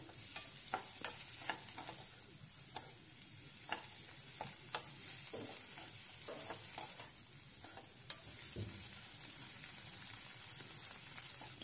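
Mint leaves wilt in a pan for a mint-tomato chutney, making a soft, steady sizzle with scattered clicks and taps of stirring, faint and close, with no voices.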